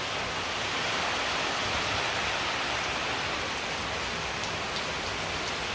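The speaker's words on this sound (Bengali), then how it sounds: "আর বৃষ্টি তো ঝরছেই অবিরাম ধারায়" Steady, continuous rain pouring down outdoors, an even, unbroken hiss of falling water heard fairly faintly with no voices or other sounds.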